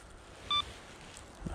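An avalanche beacon set to search mode gives a single short electronic beep, clear but fairly quiet against a faint windy background.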